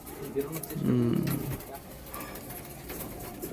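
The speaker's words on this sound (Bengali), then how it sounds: "পায়রা দেখাচ্ছি মাদা পায়রা" Pigeons in a loft give a low, throaty coo, one rolling call near the middle, with a voice talking over the birds.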